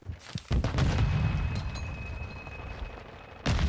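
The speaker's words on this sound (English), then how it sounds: "Swear to God, I got hit with a nade" Grenade explosion in Call of Duty ranked play, a loud burst followed by sustained low rumble and debris noise, with a second sharp boom near the end amid game sounds.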